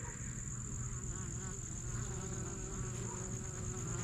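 Honey bees from a hive attack a wax moth, a dense, steady buzzing of many insects close by that continues unbroken and alone.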